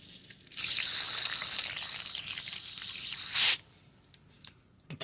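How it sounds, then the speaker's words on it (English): Water from a garden hose gushes into an anchor bolt hole in a concrete floor for a car lift installation, a steady hissing rush lasting several seconds, swelling into a brief louder splash before fading to faint drips. "I'm putting water down the one with the garden hose."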